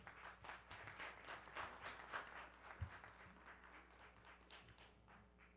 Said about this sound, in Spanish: Primero démosle un aplauso a Julio Rolón.